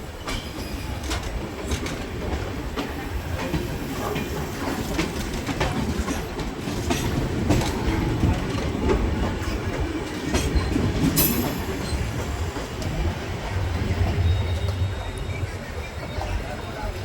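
An Intercity Express train runs steadily on rails, a continuous close rumble with rhythmic clickety-clack of wheels over joints and a brief high squeal, heard from inside the moving coach.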